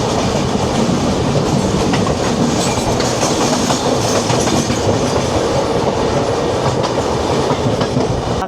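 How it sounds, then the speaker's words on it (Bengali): The 11107 Gwalior to Benares express passes close by. Its loud, continuous rumble and rhythmic clickety-clack of wheels fill the whole stretch without a break. "পাশ দিয়ে চলে যাচ্ছে 11107 গোয়ালিয়র থেকে বেনারস।"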